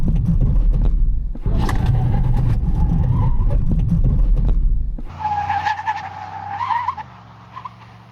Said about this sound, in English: We're gonna do a 60 to 0 mile an hour full ABS braking test.